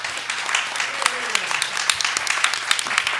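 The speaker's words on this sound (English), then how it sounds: "I want to do another round of applause and thanks to our speakers." A room of people applauds at an event releasing criminal justice reports in New York City, dense clapping continuing throughout with a voice talking over it.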